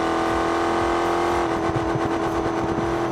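A car engine in the BeamNG driving game, in a career-mode drag strip run, revs steadily and loudly throughout with a sustained mid-range drone and rising intensity in the second half, with no talk.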